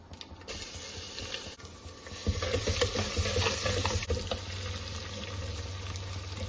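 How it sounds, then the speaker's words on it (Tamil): Crushed garlic sautéing in hot oil with curry leaves in a pan, a steady close sizzle that jumps louder partway through as more is stirred in, with scraping stirs. "பூண்டு வந்து வாசம் வர்ற வரையும் நல்லா வதங்கட்டும்."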